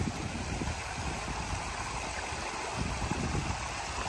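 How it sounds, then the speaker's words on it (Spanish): Stream water flowing beside a mountain hiking trail in the Pyrenees along the GR-11 in Canal Roya, a steady rushing babble at moderate distance, continuous and fairly quiet. "Desde que he entrado en Canal Roya, el agua la llevo ahí a mi lado."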